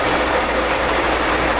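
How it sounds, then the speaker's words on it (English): An O-gauge Polar Express model train runs on its track, a steady, loud, close rumbling and rattling hum of wheels and motor with no pauses. "It's going to come around on that track number 2, the inside track on the lower level behind the church"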